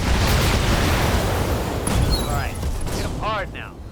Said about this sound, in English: An ammo explosion, that will be just as good.